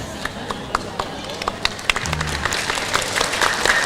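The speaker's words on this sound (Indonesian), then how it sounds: "tepuk tangan orang belum makan siang" An audience at an Islamic religious lecture by Ustadz Abdul Somad gives a modest round of applause. Scattered individual claps build into thicker, fairly close clapping with faint crowd murmur underneath.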